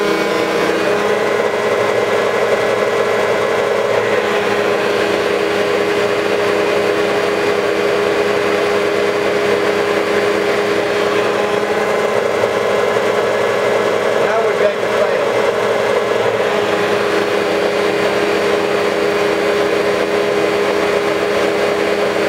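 The pumps and motors of an MF500-HTTS-E hydrostatic transmission training system run with a constant close mechanical drone and a steady whine, unchanging throughout.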